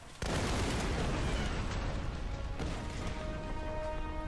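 A tower blown up in Tomb Raider: a sudden loud explosion that bursts in and roars on as a heavy rumbling blast, slowly fading, no talk.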